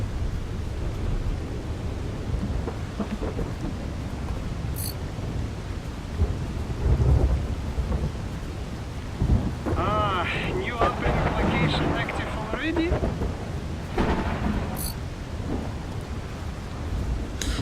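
Video game thunderstorm with steady rain and wind roaring throughout, low rumbling thunder swelling in the middle, while a voice speaks briefly over it.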